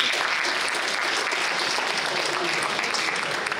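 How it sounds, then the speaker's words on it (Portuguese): Sustained applause from a large audience at an international breaking conference, a dense, steady wash of clapping filling the whole stretch at even loudness. "Então, mais uma salva de palmas."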